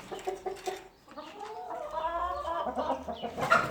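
Chickens cluck and murmur close by while eating grated apple, a busy overlapping run of short clucks and throaty calls, getting louder toward the end.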